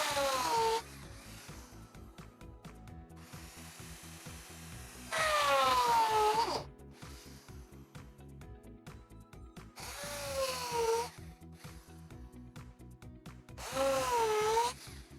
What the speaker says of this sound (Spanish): vamos a proceder a abrir los agujeros